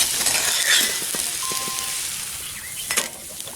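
Chicken patties frying in a cast iron pan over a campfire, a steady close sizzle with scattered pops and a faint metal clink near the end.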